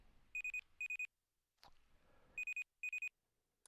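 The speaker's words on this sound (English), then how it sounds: "no matter where you are, it's going to set off an alarm" Alarm in the Rust video game going off, sounding as repeated bursts of rapid, shrill electronic beeps grouped in fours, with a short rustling noise between the groups and no talking.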